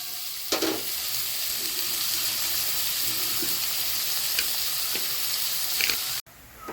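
Onion frying in a pan for chicken fried rice, a steady broadband sizzle with a few soft scrapes of stirring, loud and close, with no talking.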